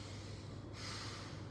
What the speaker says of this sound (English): In bhastrika, we have to concentrate both inhale and exhale forcefully.